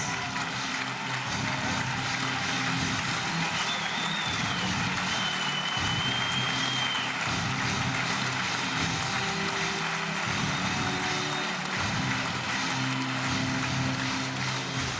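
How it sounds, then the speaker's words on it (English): Badminton fans at the Yonex Denmark Open 2013 applaud steadily as the men's singles medalists walk to the podium, a dense, continuous wash of arena clapping with crowd murmur throughout. "the fans here still on their feet applauding both men as they make their way to the podium"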